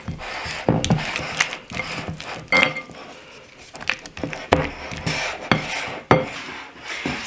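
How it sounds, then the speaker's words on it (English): Honey and butter being mashed in a bowl for gluten-free lemon bars, with repeated scraping and clacking strokes of a utensil against the bowl at an uneven rhythm, close and fairly loud. "I'm just going to start mashing around this honey and this butter."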